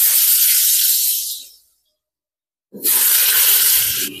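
Potatoes for a meat dish fry in hot oil with a loud, bright sizzling hiss in two bursts separated by a moment of near silence.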